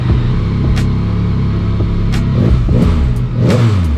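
A 2022 Yamaha MT-09 motorcycle with a full exhaust system and tune revs loudly and steadily up close, its engine note rising and falling through several throttle blips.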